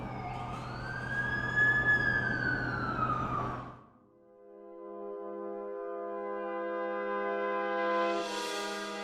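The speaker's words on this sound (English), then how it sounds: "That's the ambulance I called." An ambulance siren in the video game The Amazing Spider-Man 2 wails in sweeping rising and falling tones, then settles into a steady, droning electronic tone near and fairly loud.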